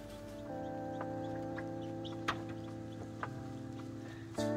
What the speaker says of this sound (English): It was really fun to watch the chicks hatch.